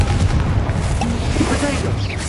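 A Confringo spell explodes in the game Hogwarts Legacy, a loud, dense, rumbling blast that fills the whole short moment with booming energy.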